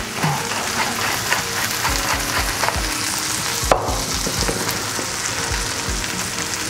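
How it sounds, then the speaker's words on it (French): Gnocchi sizzle loudly in a hot frying pan with foaming butter, a steady crackle with occasional stirring thumps and scrapes, close up and without voices. "On entend les gnocchis qui chantent, c'est parfait."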